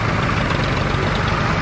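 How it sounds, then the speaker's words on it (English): A vintage original four-cylinder, 55-horsepower engine idles at a steam and vintage show, giving a loud, steady, throbbing rumble that runs without a break and with no talk over it. "This was actually the original 4-cylinder, 55 horsepower engine in there."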